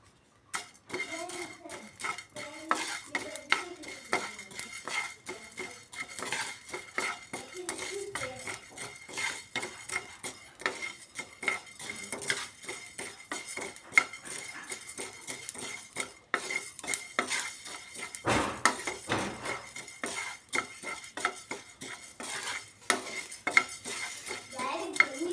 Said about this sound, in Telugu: నెక్స్ట్ ధనియాలు, జీలకర్ర వేసి కూడా కొంచెం లైట్గా వేయించుకోవాలండి